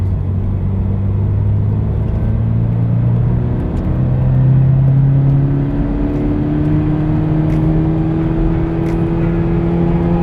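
A 2022 Subaru BRZ accelerates hard from third gear at about 60 km/h, its engine note rising in a continuous, loud drone that climbs steadily in pitch over ten seconds.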